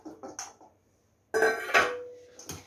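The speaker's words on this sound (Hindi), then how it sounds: "अब इसमें हम ये कटहल डाल देते हैं" Chopped jackfruit tipped into a handi with mustard oil, a few light clinks of metal and utensils at first, then louder clattering scrapes and knocks against the pot as it is stirred.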